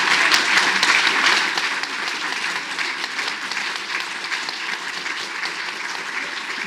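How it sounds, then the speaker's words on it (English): A crowd at a crime authors' panel event in Auckland applauds steadily, loud at first and then settling into sustained, even clapping that continues to the end. "A round of applause."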